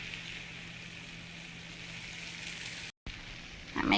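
Sugar syrup poured over hot baklava just out of the oven, a steady soft sizzle and crackle hissing evenly throughout, briefly cut off near the end before resuming.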